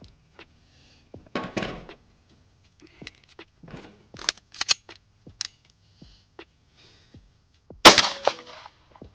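Suppressed Glock pistol shots fired through an attached blast can, heard as sharp, separate cracks and clanks spread unevenly, with one louder report near the end and quiet gaps between.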